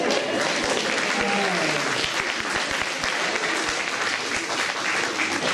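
Sustained audience applause in a church gathering, a thick, even roar of many hands clapping at full strength throughout.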